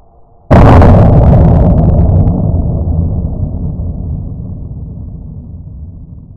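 An electrothermal gun fires a marble in a single sudden, very loud blast. The boom has a long rumbling tail that slowly fades over several seconds.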